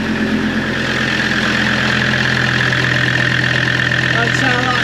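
A steady engine idles nearby with a constant low rumble, while a person talks over it.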